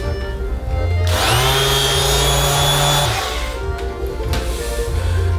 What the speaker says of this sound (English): It's an electric sander.